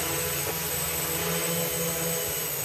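A quadcopter's 9-inch propellers spin with a steady, close whirring drone, a constant buzzing hum that holds without change, with no speech.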